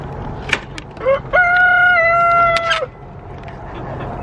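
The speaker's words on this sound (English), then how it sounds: "There are so many roosters." A single rooster crows once, loud and close, a drawn-out cock-a-doodle-doo lasting about a second and a half, with faint noise from a frosty chicken yard before and after.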